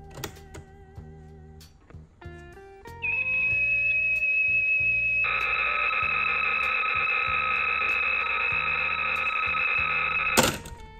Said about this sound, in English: what you're hearing is data encoded in the Kansas City standard